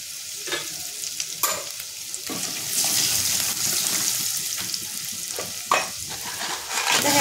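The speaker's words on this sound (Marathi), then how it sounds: "ते छान परतून घ्यायचे मसाल्यामध्ये।" Spices and crab pieces sizzle and fry in a pan for crab soup with black pepper and turmeric, steady hiss broken by scraping stirs and a few sharp clinks, close and moderately quiet.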